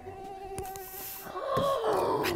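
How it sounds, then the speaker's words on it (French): A mosquito whines close by in a quiet room, a thin high buzz that wavers and swoops as it flies past, with a few faint clicks. "Oh, un moustique!"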